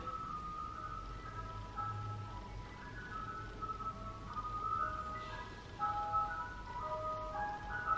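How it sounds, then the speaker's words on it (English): An ice cream truck plays its tinny, tonal jingle melody continuously, moderately distant and steady, with a low background hum and no talking. "there's an ice cream truck"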